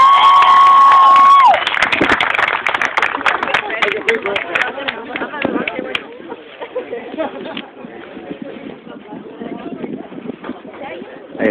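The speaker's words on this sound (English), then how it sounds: "Can we give him a big, big round of applause?" Wedding guests at a reception clap and cheer after the bride's father is introduced, a dense crowd roar with shouts and scattered clapping that starts loud, then settles to a steady din, following a brief sustained tone at the start.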